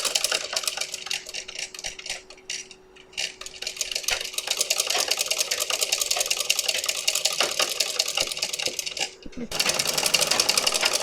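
A sewing machine stitches an embroidery petal in granite stitch with dense, rapid, rhythmic needle clatter up close, briefly easing off twice before running on again.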